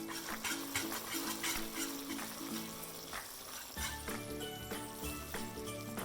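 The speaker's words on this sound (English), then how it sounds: "I'm gonna whisk in some vanilla." Vanilla is whisked into a hot vegan maple pecan fudge mixture cooked to 240 degrees, giving a continuous soft stirring and scraping texture under steady background music.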